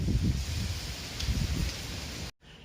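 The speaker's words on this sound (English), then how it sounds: "Oh, it's windy." Gusty wind buffets the microphone in rough, low rumbling waves, then cuts off abruptly near the end.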